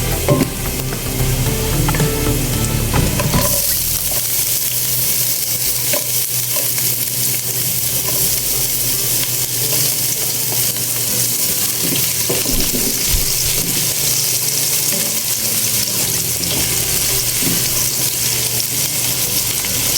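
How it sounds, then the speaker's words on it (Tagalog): Ginger and onion sautéing in a pan, a steady close-up sizzle that runs unbroken under occasional stirring clatter, loud and dense throughout with no voices. "Ngayon natin igisa na yung luya. Ayan, isunod na po natin yung ating sibuyas."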